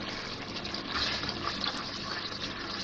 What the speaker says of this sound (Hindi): अभी पानी वगैरह डालूंगी,